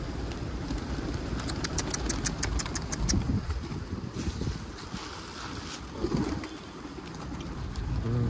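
Wild pigeons coo outdoors amid gusty wind noise, with a quick series of light clicks early on and low rumbling buffeting underneath.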